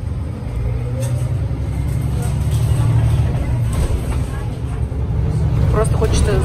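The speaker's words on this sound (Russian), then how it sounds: "когда я еду в автобус, и он резко тормозит." Inside a city bus as it brakes sharply, a steady low engine and road rumble fills the cabin throughout, with some faint hissing and rattles near the end.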